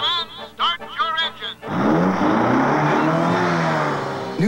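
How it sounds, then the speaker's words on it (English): A race car engine catches and revs loudly in a TV commercial, a sustained roar rising over a few seconds after a short burst of voice and music at the start. "Gentlemen, start your"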